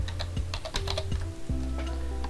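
Typing on a computer keyboard, a run of quick, close key clicks with a few heavier strokes, alone over a steady low hum.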